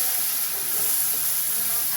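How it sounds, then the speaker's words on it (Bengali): Prawns rubbed with salt and turmeric fry briefly in hot oil over a full gas flame, giving a steady, close, even sizzle and hiss with no pauses. "এগুলো জাস্ট বেশি ভাজবো না, 10 সেকেন্ড ভাজলেই যথেষ্ট"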